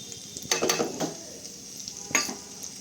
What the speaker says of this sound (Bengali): তারপর এটা ভালো করে একটু ভেজে নেব